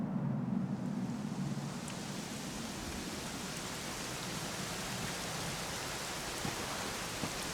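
Steady rain pours in Dragon Quest XI S, a dense, even hiss of drops on the ground that runs unbroken and fairly loud throughout, with no voices.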